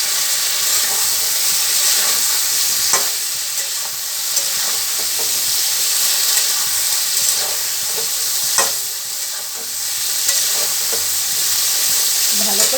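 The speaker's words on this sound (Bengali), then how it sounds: "বেগুনের সঙ্গে মশলাটা ভালো করে কষিয়ে নেওয়া হয়েছে" Eggplant and spice masala sautéed in hot oil with green chillies, a steady close sizzle with occasional stirring scrapes and no voices.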